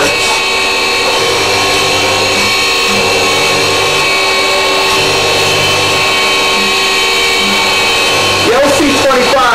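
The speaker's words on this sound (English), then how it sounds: "With the addition of the optional high-powered mag plate, the machine can be set up to face grind carbide inserts." CNC tool and cutter grinder with an optional high-powered magnetic plate, face grinding carbide inserts: a steady high whining machine tone with motor hum, while a voice talks over it throughout.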